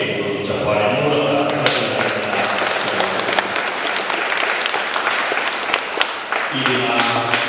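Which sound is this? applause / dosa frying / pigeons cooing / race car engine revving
applause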